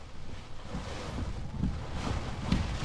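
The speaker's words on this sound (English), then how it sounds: "The wind and rain have both picked up." Strong hurricane wind gusts buffet the microphone on the coast in uneven surges, a low rumbling roar that swells and dips with a few sharper bursts, no voices.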